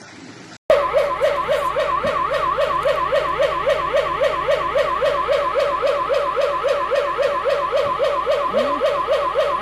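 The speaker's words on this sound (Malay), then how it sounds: "siren amaran mulai berbunyi, menandakan risiko banjir semakin hampir" A flood warning siren sounds in Dungun as the Kampung Pasir Raja river rises past danger level, wailing loudly and close in a steady rapid pulsing cycle after a brief quiet start, with no talk.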